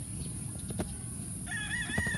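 A rooster crows on a gamefowl breeding farm in the Philippines, rising clearly in the second half over a busy bed of clucking fowl and farmyard noise.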